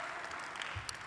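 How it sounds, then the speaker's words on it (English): Scattered, faint clapping from a few delegates in an assembly hall, a thin patter of hands at a distance over a quiet room tone. "there are a few of you clapping, a few of you don't seem to clap"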